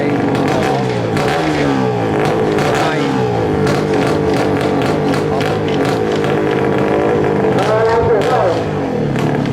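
A car engine drones and revs steadily throughout as the driver presses the accelerator, loud and close, with voices and crowd noise mixed in under the engine.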